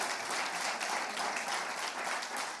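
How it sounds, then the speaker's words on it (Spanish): A church congregation applauds steadily for a few seconds, a dense, even wash of clapping from many hands with no voices over it. "Dale un aplauso a Cristo el Señor."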